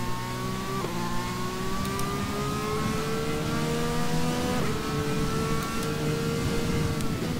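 A Formula 1 car in the video game F1 2020 pulls out of the pits, its engine whining in a loud continuous tone that climbs through two gear shifts, with no talking.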